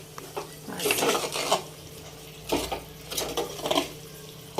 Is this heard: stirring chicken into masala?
yes